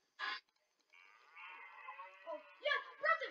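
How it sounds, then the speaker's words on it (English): A sheep bleating in a Roblox video game, a drawn-out wavering bleat following a short sound, then brief voices talking near the end. "That's a sheep."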